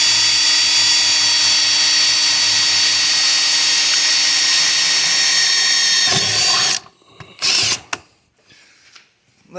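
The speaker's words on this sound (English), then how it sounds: "So I'm going to drill a pilot right here." A power drill bores a pilot hole during a 4th-order bandpass bass enclosure build, whining loudly and steadily for about six seconds before stopping, followed by a few brief clunks and handling noises.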